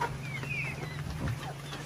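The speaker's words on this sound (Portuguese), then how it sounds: "Essa galinha choca é tudo aqui." Brooding hens sitting on nests in a chicken coop give soft, low intermittent clucks over steady farmyard background noise, with a few higher chirps from other birds nearby.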